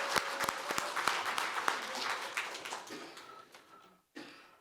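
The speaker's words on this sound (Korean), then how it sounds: "큰 박수 부탁드립니다" Audience applause at a policy forum, a steady crowd clapping with distinct individual claps at first, thinning out and fading, then a brief renewed burst near the end.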